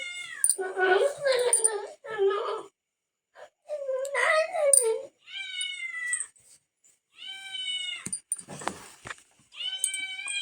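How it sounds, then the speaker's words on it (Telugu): A cat meows several times in a home kitchen, with clear drawn-out mews between stretches of someone talking nearby. "పిల్లి వచ్చేసింది"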